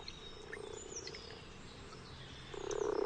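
Common frogs croaking in a shallow garden pool, a faint chorus of soft calls that swells louder near the end, with a few distant bird chirps above.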